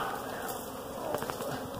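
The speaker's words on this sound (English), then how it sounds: "we got a few bees on the old pants" Honey bees buzz close around a beekeeper working a cluster at a bee ranch, a steady insect drone with a few louder passes near the microphone.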